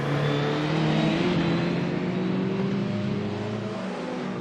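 Renault Clio 16S race car on a fast lap at Mallory Park, engine droning loud and steady at high revs with the pitch slowly sagging and rising, close by and alone.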